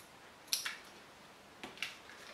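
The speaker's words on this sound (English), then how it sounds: "and just snip it off." Scissors snip off the excess end of a ribbon on a double tuxedo hair bow, two quiet, crisp cuts close by, about a second apart, in an otherwise silent room.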